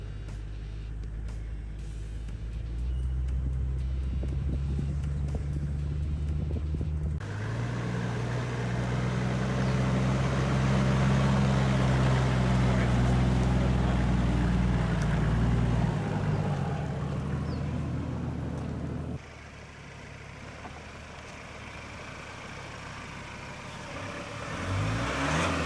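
A Toyota Landcruiser 105 drives off-road through small puddles, its mid-range engine revving up and down loudly and close, with splashing and rumbling, then settling to a quieter idle near the end.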